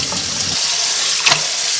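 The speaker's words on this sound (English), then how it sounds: "It's best to rinse this in a tub of water to remove any dirt or sand or sediment." Parsley and cilantro are rinsed in a tub of water, giving a close, continuous splashing and rushing wash with a brief louder slosh near the end, no voices.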